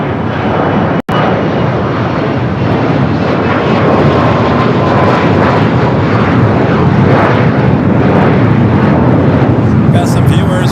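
A United airliner takes off from LAX runway 25 right with a loud, continuous jet engine roar close by, broken by a brief dropout, while a voice speaks over it.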